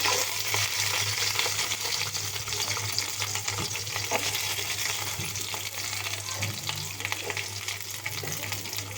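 Chopped onions sizzle and fry steadily in a pan with oil and curry leaves while a utensil stirs and clinks against the metal, a continuous close, dense hiss with no talking.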